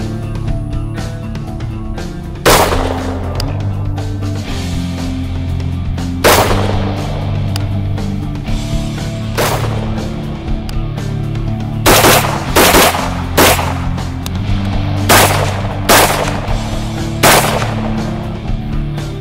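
Gunshots from an Axelson Tactical special purpose rifle fired at a target about 110 yards out, loud single sharp reports spaced seconds apart, some in quick pairs, over a steady low outdoor hum.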